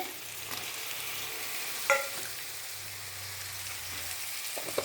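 Tomatoes fry in a pan with a steady soft sizzle, stirred now and then, one brief clink of the utensil against the pan, close and alone without talk.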